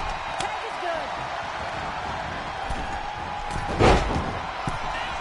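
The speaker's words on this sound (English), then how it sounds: "Frog splash! That has to knock all the wind out of you." In the WWE 2K25 wrestling video game, a frog splash lands as a single heavy thud against the mat, set within steady arena crowd noise.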